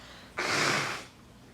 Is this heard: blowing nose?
yes